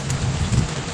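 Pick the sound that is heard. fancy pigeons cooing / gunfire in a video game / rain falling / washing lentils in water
rain falling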